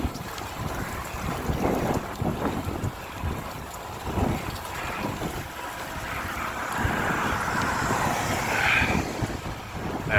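Strong wind buffets the microphone on an e-bike ride through Toronto at night amid freezing rain, a continuous loud roar that rises and falls for about ten seconds.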